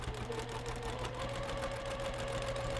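Sewing machine stitching a fabric pot holder, a steady continuous motor whir with a fine rapid needle rhythm running close and loud throughout.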